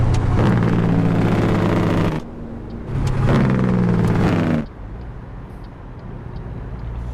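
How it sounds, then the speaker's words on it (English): Jake brake on a Peterbilt 352 cabover truck mod in a video game: two loud, close bursts of rapid engine braking chatter, each lasting about two seconds and then cutting off, leaving a steady lower engine idle. "Jake brake works pretty nicely"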